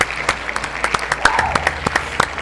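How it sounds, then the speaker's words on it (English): A studio audience at a talk show claps in a short burst of sharp, uneven individual claps from a small group, fairly close and without any talking. "Everybody clap that up."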